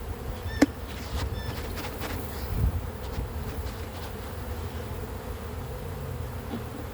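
Honeybees buzz steadily around a nuc hive outdoors, a continuous close insect drone with a few individual bees passing nearby.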